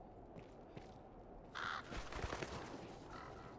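Crows in Dragon's Dogma: Dark Arisen give one short caw against a quiet ambient bed, with a faint second call near the end, no speech.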